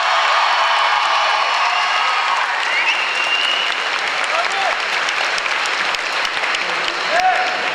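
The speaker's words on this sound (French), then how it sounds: "Elle mérite encore plus d'applaudissements." Loud, sustained applause from a large audience at a Japan Expo cosplay group performance, dense clapping that holds steady the whole time with faint cheering mixed in.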